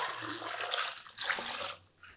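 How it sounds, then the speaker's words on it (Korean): Salt brine poured from a container over sliced radish and sweet potato for quick water kimchi, a steady loud splashing gush running for about two seconds before tapering off. "이렇게 이제 소금을 다 풀어줬는데요. 지금 쓸어 놓은 무하고 고구마에다 부어주세요."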